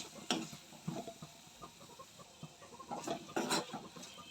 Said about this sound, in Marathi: यामध्ये आपण आता हा फणस टाकणार आहोत याला छान मिक्स करून घेऊया